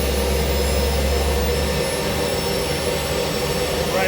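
A military Gazelle SA342M helicopter's turbine engine spools up during start-up, a loud continuous whine and roar with a steady high tone and a deep low rumble that drops away partway through, with no talk.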